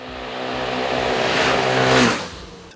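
Piaggio MP3 and Quadro three-wheel scooter engines rev up and accelerate together from a standstill, the buzzing pitch climbing loudly before fading as they pull away.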